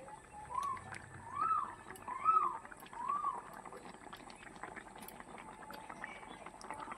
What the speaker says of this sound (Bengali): এবার আমি একটা ঢাকনা দিয়ে ঢেকে দেব ঝোলটা একটু ফুটে ওঠার জন্য